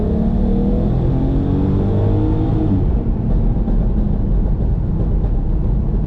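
A loud naturally aspirated engine of a 2005 Volkswagen Golf R32 Mk5 drones steadily and rises in pitch as it revs, then holds at a constant roar, with no voices.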